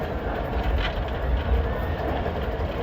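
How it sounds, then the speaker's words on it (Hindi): A train at Alipur Chatha railway station gives off a steady, broad rumble with a faint rhythmic clatter, heard from close by over the station's background noise. "ये देखें कितना खूबसूरत रेलवे स्टेशन है"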